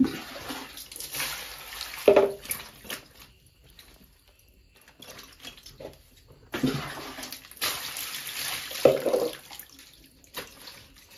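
Water splashes and pours while shevala, a wild monsoon forest vegetable, is washed by hand, coming in irregular close bursts of sloshing and rinsing with quieter gaps between.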